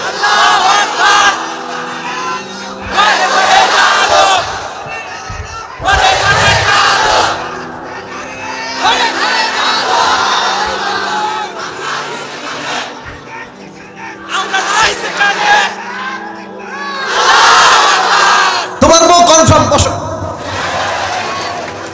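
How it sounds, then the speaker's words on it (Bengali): A large crowd at an Islamic sermon gathering loudly shouting takbir in repeated bursts, a massed chant of many voices rising and falling, with a leading voice between the bursts. "জোরে সোরে দাও তাকবীর।"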